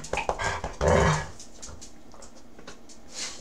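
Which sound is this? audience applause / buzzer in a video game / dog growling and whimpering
dog growling and whimpering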